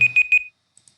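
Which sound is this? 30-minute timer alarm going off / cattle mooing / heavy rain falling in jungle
30-minute timer alarm going off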